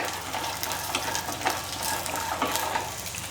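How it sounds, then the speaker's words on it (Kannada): Peanuts and garlic fry in hot oil in a pan, giving a steady close sizzle with occasional stirring scrapes and splatter bursts, no voices. "ಈಗ ನೋಡಿರಿ, ಶೇಂಗಾದ ಕಾಳು ಹುರಿಯಾಕತ್ತಾವು."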